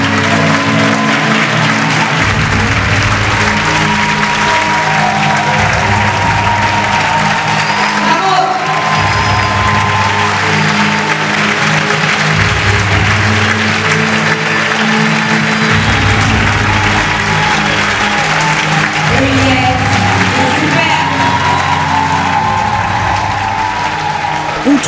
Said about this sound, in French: Eliette le Superbe, s'il vous plaît, sous applaudissements